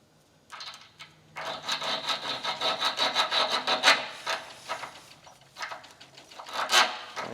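A makeshift hacksaw scrapes back and forth on a part of a 1950 REO engine, a close, rhythmic rasping cut of repeated strokes with brief pauses and no voices.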